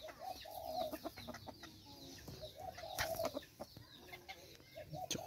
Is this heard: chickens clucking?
yes